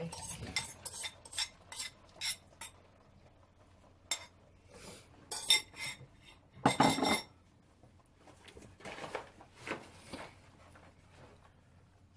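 A utensil scrapes and clinks against a pan while eggs are scrambled, a series of short, irregular metallic strokes close by in a quiet kitchen, with a few louder bursts midway.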